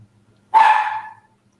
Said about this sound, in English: my dog barked again and made my mind go off